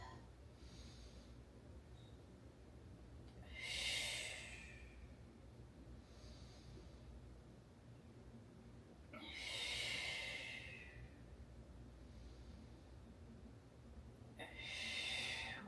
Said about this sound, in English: Inhaling as those legs reach away. Exhaling as the legs fold back up.